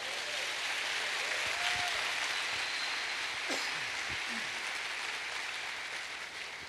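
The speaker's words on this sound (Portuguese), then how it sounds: "Você pode aplaudir ao Senhor?" A church congregation applauds during a sermon, a soft, continuous wash of many hands clapping heard from a distance, with a few faint voices and tones underneath.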